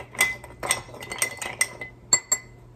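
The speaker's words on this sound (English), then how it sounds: "then you're going to take that, stir it again, get it all mixed up in there" A mint julep stirred with ice in a glass, bright clinks and chinks of ice against glass and a spoon at irregular intervals, close and fairly quiet, ending with two sharper knocks.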